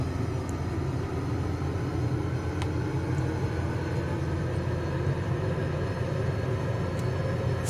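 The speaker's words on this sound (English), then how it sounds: "definitely hearing jet noises" The jet engine of a Navy Goshawk trainer in Microsoft Flight Simulator, sitting at Key West Naval Air Station, gives a constant, loud broadband roar and rumble with no change in level, alone and without talk.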